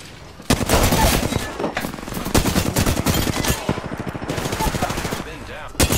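Enemies fire at the player in a shooter video game, dense rapid bursts of automatic gunfire, loud and close, running almost continuously with brief pauses between volleys.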